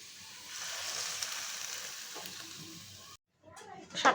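Mixed leafy greens (saag) sizzle and fry in hot oil in a home kitchen, a steady loud crackling hiss that cuts out briefly near the end before clattering stirring sounds resume.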